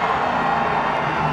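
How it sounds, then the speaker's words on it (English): A large NASCAR crowd cheers a race win, a dense continuous roar of shouts and whoops with some clapping, loud and steady throughout. "listen to the crowd"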